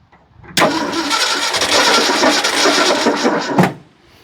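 A car engine, boosted by a jump starter, cranks with a sharp burst and catches straight away. It runs loud and steady for about three seconds, then cuts off abruptly, with no talking.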